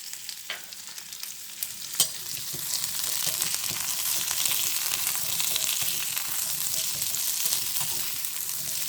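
Cloves roasting in a pan for mutton chops produce a close hiss that swells and holds steady, with a couple of sharp stirring clicks early on.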